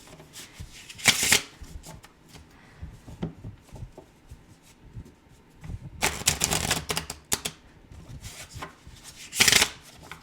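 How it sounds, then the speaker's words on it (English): A large tarot deck with matte card backs being shuffled by hand, with crisp riffling bursts and softer rustling and tapping between them, close up and fairly loud. "so it's got matte back and shuffles pretty dang well for a gigantic deck"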